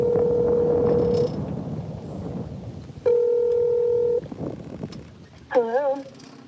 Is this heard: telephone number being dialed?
yes